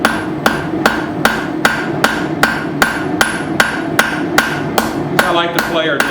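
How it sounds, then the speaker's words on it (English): Cross peen hammer striking hot steel while forging a split cross, about fourteen loud, evenly spaced ringing blows close by, with metallic ringing tones near the end. "Alright, so I'll just use my cross peen now."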